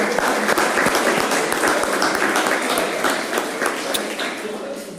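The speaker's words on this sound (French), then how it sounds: "je vous propose qu'on applaudisse les élus" Applause for elected officials at a municipal council meeting, a thick burst of clapping with distinct individual claps standing out, gradually thinning toward the end, with some voices mixed in.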